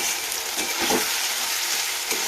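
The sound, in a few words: stirring garlic and ginger paste frying in a pan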